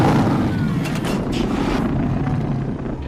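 Batmobile throttling up with afterburner boost: a loud, sustained roaring rush with a broad turbine-like whoosh that swells briefly near the middle and stays steady for about three seconds.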